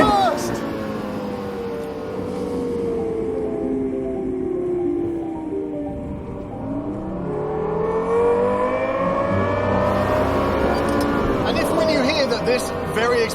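A Lexus LFA supercar engine revs hard through upshifts from second to fourth, then downshifts back through third and second, its rising and falling whine sweeping up and down loudly with a voice calling out the gears.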